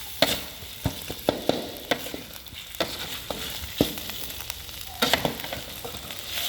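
Spicy Thai stir-fry of pork belly crackling in a hot pan, a continuous loud sizzle punctuated by sharp clanks and scrapes of the spatula at an irregular rhythm, close up and without voices.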